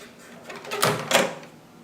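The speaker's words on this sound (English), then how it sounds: "open up the door" The door of a Panasonic Genius microwave is pulled open, giving two quick muffled clunks from the latch close by, with nobody speaking.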